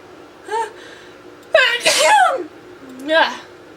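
Sneezing close to the microphone: a quick inhale, then one loud, forceful sneeze, followed by a voiced breathy sound that is either another sneeze or a sigh.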